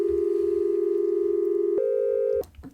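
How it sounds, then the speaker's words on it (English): A pure sine wave tone from the Serum software synth, set for a soft organ-like sound, holds steady and loud, then steps up to a second pitch before cutting off, with no voices. "I'm going to choose sine wave just because I like that nice organy tone"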